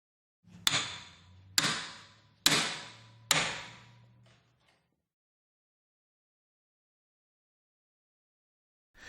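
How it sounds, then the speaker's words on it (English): Four sharp metallic hammer blows on a spanner tightening a Grundomat-P pipe-pulling tailpiece, evenly spaced about a second apart, each ringing and decaying, followed by silence. "tightening with a spanner and a hammer."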